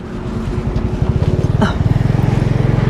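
A motorbike near the Cambodia border by the Mekong River pulls up, then sets off, its engine firing in a quick pulsing putter that grows louder and more regular as it accelerates away.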